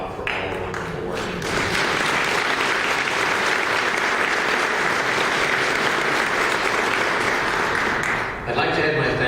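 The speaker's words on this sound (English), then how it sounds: "I'd like to ask for another round of applause for Bob" An audience at a charity luncheon gives a round of applause, a dense, loud and sustained burst of clapping lasting several seconds, with a voice briefly heard at the edges.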